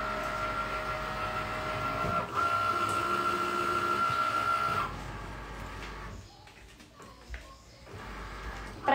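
A Cricut cutting machine works through patterned paper for an Easter cake topper, giving a whirring mechanical drone with a steady whine that shifts and stops, then moves on in shorter motions.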